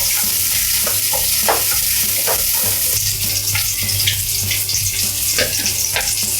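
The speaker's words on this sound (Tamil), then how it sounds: "வெங்காயம் வதங்கட்டும்" Small shallots sautéing in hot oil for a Tamil pirandai kara kuzhambu, a steady close sizzle with scattered spoon scrapes and stirring clicks, no voices.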